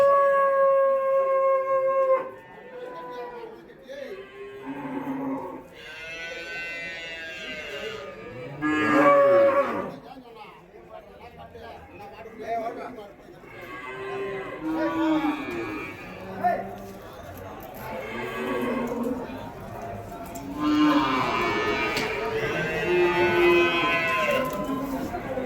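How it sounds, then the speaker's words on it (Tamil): Cattle low and moo repeatedly amid the bustle of the Vaniyambadi cow market, loud nearby calls overlapping with a crowd's chatter and voices talking throughout. "மாடு நல்லா வளர்த்துருக்காங்க."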